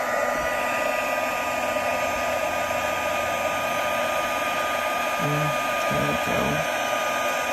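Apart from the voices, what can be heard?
heat gun melting embossing powder on paper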